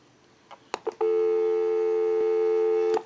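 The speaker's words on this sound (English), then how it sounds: "So we'll go ahead and give you some dial tone." A few clicks, then a steady dial tone on a Western Electric 500 rotary desk telephone that holds for about two seconds before cutting off.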